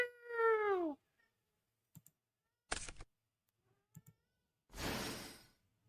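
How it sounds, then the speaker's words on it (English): A pet cat yowls loudly and close at the start with a long, rising-and-falling scream, followed by scattered soft clicks and thumps and a burst of broadband rustling noise near the end. "My cat is screaming at the top of his lungs."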